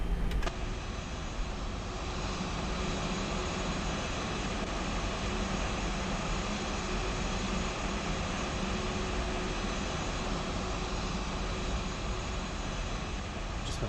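FlightFactor A320 airliner taxiing in X-Plane 12, a steady loud jet engine whine and rumble that holds unchanged throughout with no talk.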